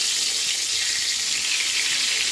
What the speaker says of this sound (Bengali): এবার তেলটা কিন্তু গরম হয়ে গেছে। আমি এবার বেগুনগুলো আস্তে আস্তে এইভাবে ছেড়ে দিচ্ছি।